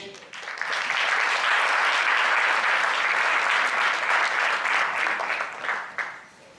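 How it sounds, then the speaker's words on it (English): Loud, sustained applause from a sizable audience at a panel discussion, dense and even throughout before tapering off quickly at the close. "Super round of applause for Brijesh"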